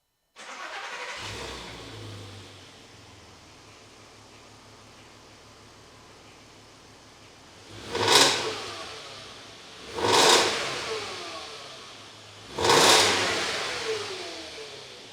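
A car idles with a low rumble, then three sharp revs surge and fade, each throaty and loud, spaced a couple of seconds apart through a rumbling cheap aftermarket sports exhaust.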